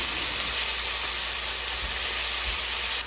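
Steady, loud sizzling hiss of food frying in a pan, continuous and even with no pauses, and no voices.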